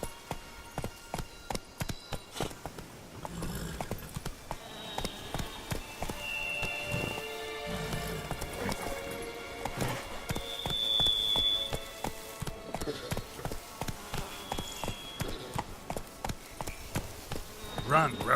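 Roach the horse from The Witcher 3 gallops steadily, with rhythmic clip-clop hoofbeats running throughout, mixed with rain-like patter and background music while a voice speaks at points.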